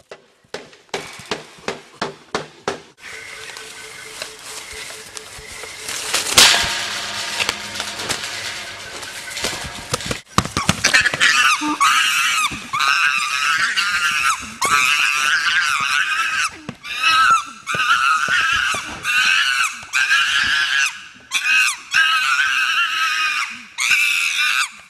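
Chimpanzees scream during an aggressive display, with sharp knocks and thumps early on, then sustained loud, shrill overlapping screams pulsing through the second half.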